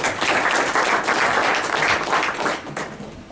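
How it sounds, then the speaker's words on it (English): An audience at a DevFest tech conference talk breaks into sustained applause, a dense, continuous clapping from a crowd indoors lasting about three seconds, without speech. "let's give him a round of applause as he starts off."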